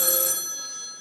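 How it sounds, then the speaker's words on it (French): A telephone bell rings during a stage play, a bright sustained ring that fades over about a second, loud and close, with no voices. "Gigi, Gigi, il y a un téléphone."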